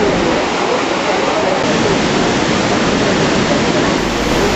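Water rushes through a rocky cave passage at Bhim Pul near Badrinath, a loud, dense, unbroken roar that holds steady from start to finish.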